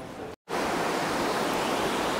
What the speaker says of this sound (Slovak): Tu nachádza aj táto rieka, ktorá by mala byť vlastne voda z ľadovca